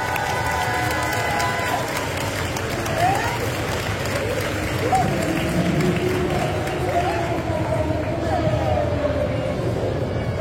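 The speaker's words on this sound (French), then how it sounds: "je vous demande un tonnerre d'applaudissements pour notre Spartacus" An audience at a manga convention in Paris gives a steady round of applause and cheering for an actor, dense clapping and crowd noise holding at an even level throughout.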